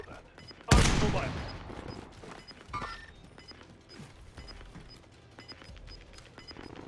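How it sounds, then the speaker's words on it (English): Gunfire in Call of Duty Warzone on Rebirth Island, with one loud close shot followed by fainter scattered shots and game clatter under intermittent player talk. "You shooting the guy in the tower, Marcus?"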